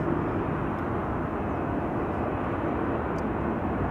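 IndiGo Boeing 787-9 Dreamliner arriving from Mumbai at Amsterdam Schiphol, a continuous low, broad jet-engine roar heard from a distance, steady and unbroken with no talk.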